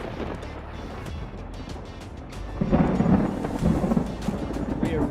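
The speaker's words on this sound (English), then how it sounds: "We're right on the edge of this storm, guys." Thunder from a severe lightning storm in north-west England rumbles low and heavy, building into a louder, rolling crash midway and continuing to grumble, with no speech over it.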